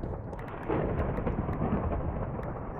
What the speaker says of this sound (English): Golly, gotta love the thunder.